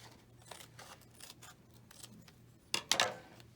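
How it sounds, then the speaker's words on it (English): Scissors snip through a dried paper coffee filter, two quick crisp cuts close by after a faint rustle, with no talking. "you're going to take your scissors and you're going to cut it in half."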